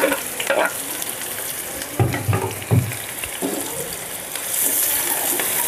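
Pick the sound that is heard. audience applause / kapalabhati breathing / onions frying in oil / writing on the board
onions frying in oil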